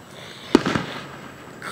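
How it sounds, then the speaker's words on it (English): One sharp Fourth of July firework bang in Bedford, Virginia, followed by a brief rumbling echo, standing alone against a quiet night background. "those are Bedford, Virginia fireworks"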